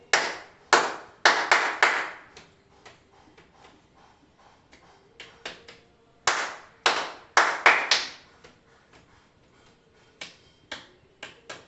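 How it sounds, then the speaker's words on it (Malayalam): Scout head clap: sharp, close handclaps in bursts, each followed by softer pats on the shoulders and head. The sequence repeats twice, and the pats grow quieter toward the end of each round. "ഹെഡ്, അപ്പൊ കൈകളടിക്കുന്നു, അത് കഴിഞ്ഞ് ഷോൾഡറിലടിക്കുന്നു, പിന്നെ ഹെഡിലടിക്കുന്നു. അതാണ് ഹെഡ് ക്ലാപ്പ്."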